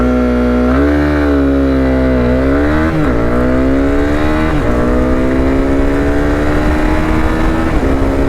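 A 2022 Honda CB300R BS6 motorcycle launching hard in first gear, the engine note climbing steeply, then rising again after each quick upshift in a loud, continuous run of revving.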